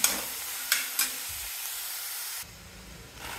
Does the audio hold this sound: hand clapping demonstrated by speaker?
no